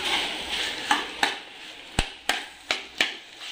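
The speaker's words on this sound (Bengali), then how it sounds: "এবারে হলুদ দিয়ে ভালো করে কষিয়ে নেবো।" Arum stalks with turmeric frying in a pan, a soft sizzle broken by six sharp spatula knocks against the metal, irregularly spaced and close.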